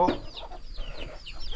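Chickens released into a pen on a rural Thai farm cluck in short, repeated calls, fairly close, with faint background noise and soft voices.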